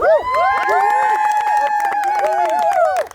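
Graduation crowd for the Samuel Merritt University class of 2021 cheers and whoops loudly, with high shouting voices and scattered clapping in a sustained burst that cuts off at the end.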